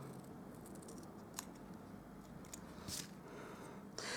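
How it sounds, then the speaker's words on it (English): Scissors trimming cardstock down for a Stampin' Up handmade card, giving a few faint, sparse snips over a steady quiet background hiss, with no talking. "I'm just going to cut this down a little bit more, trim it off the sides"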